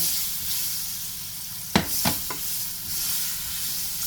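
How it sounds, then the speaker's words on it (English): Onions hit a hot pot for a curry steamed fish, giving a steady loud sizzle with a few sharp clanks of a spoon stirring partway through. "So now I'm gonna go in with my onions"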